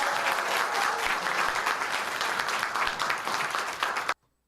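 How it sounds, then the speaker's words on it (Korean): A seminar audience gives a warm round of applause for a sales talk, dense sustained clapping at moderate loudness that stops abruptly near the end. "권태호 대표님한테 큰 박수 부탁드립니다."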